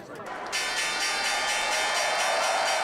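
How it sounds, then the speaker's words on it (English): Opening bell at the New York Stock Exchange rung by Alibaba customers, a loud sustained ringing that starts abruptly and holds steady in a large trading hall, with crowd noise and voices underneath. "Alibaba customers rang the opening bell"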